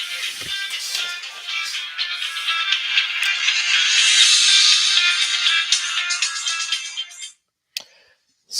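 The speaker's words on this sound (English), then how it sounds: "My phone went off." A mobile phone ringtone plays loudly and close for about seven seconds, a bright, busy tone that swells in the middle and stops abruptly, followed by a couple of short clicks.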